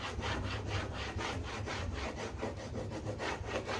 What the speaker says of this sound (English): when you put the pressure down with the burnishing stick, it's going to come off onto your project